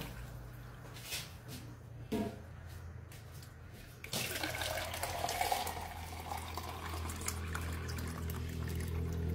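Boiled water pours steadily into a bowl of salt while roti canai dough is being prepared in a kitchen; a few faint knocks come first, then a continuous close splashing pour that fills the rest.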